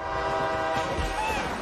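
A train horn blaring in a scene from The Garfield Movie, a sustained loud tone held for the whole moment over a steady rumbling rail background.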